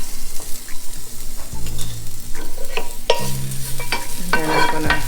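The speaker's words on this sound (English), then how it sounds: "So I have here about a teaspoon of garlic, and I'm going to put it in the hot oil." About a teaspoon of garlic frying in hot oil in a pan, a close sizzle with scraping and clinking of a utensil, crackling building louder toward the end, no voices.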